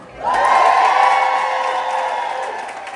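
A theater crowd at a Pride event bursts into loud cheering and applause, a sudden swell of whoops and clapping that holds strong and slowly fades, with no talking over it.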